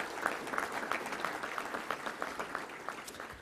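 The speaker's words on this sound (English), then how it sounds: "let's give our pilots a round of applause wherever they are" An audience at a Little Rock Touchdown Club luncheon applauds the pilots, a faint, distant patter of rhythmic clapping lasting a few seconds.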